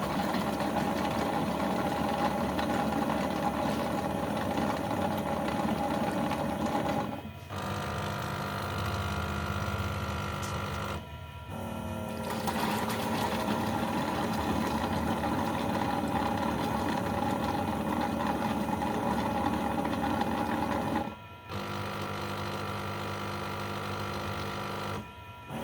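The pumps of a Yeedi Mop Station Pro robot mop dock run as a steady, loud mechanical hum and buzz, broken by a few brief pauses over about 25 seconds.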